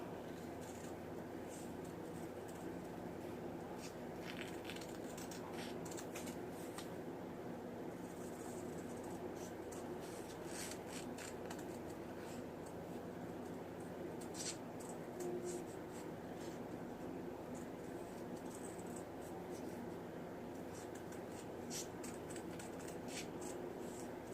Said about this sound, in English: Maybe I can fussy cut around it a little.